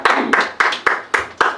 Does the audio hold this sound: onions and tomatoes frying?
no